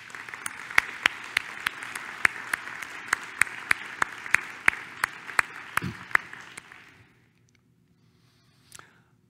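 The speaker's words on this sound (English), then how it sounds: "please let's give her a round of applause" A smallish audience applauds at a scientific society's presidential address, with clear individual claps over a steady patter that fades out after about seven seconds, leaving near silence and one faint sound.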